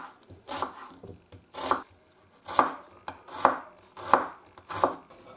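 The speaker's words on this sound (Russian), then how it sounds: "Одну среднюю луковицу нарезаем мелким кубиком." A knife dices a medium onion on a cutting board, about six crisp, evenly spaced strokes, close up and with no talking.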